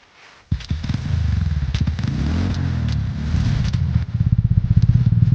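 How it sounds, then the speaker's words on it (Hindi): A Harley-Davidson X440 motorcycle with a custom aftermarket exhaust fires up after a brief quiet moment, then idles and revs loudly and close by, ending in a rapid, popping burble. "कस्टम एग्जॉस्ट का, जो कि मैंने लगवा रखा है अपने हार्ले डेविडसन X440 में।"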